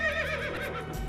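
A frightened horse in Paddle Pop Magilika (2006) gives a single close, wavering whinny that fills the moment, ending with a low thump.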